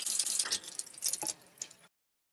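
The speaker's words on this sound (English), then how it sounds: "I'm just gonna rinse out the inside of this." Tap water runs and splashes into a whole raw chicken's cavity as it is rinsed out in a kitchen sink, a close hissing spatter with drips, easing off before stopping near the end.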